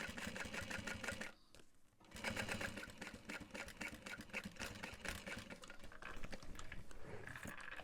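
A sewing machine runs steadily, top stitching through vinyl on an Emma backpack, its fast needle rhythm broken by a short pause near the start before resuming at full pace, close and continuous.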